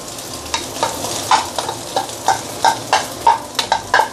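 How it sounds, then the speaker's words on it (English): Rice stir-fried with egg in a hot pan, a low sizzle punctuated by repeated sharp scraping strokes of the spatula at a brisk, uneven rhythm. "before the egg is cooked, I'm going to add in the rice"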